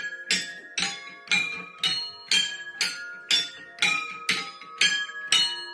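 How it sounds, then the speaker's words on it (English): Tubular bells ring out a melody as about a dozen evenly spaced, loud metallic strikes, each with a bright attack and a short ringing decay. "I also made a tubular bell version, so it played quite loud melodies as well."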